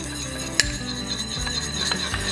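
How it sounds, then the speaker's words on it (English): A spoon scraping and clinking through a maple bourbon bacon mixture in a bowl, a few quick close stirring strokes with one sharp tap near the start. "we're just gonna take our mixture, we're just gonna give it a quick stir."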